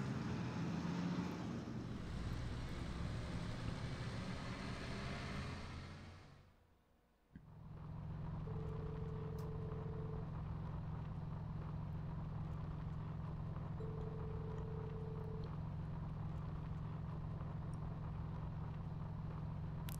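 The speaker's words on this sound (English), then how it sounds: "They go pretty fast for tanks." Military tanks drive across training grounds in Trails of Cold Steel, a loud, steady engine roar and rumble that dips briefly, then resumes with a constant hum and a recurring tone, with no talking.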